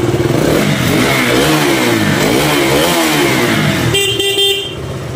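A 2017 KTM RC 125 motorcycle engine runs close by, revving up and down in rising and falling sweeps, then settles near the end as a horn-like tone briefly sounds.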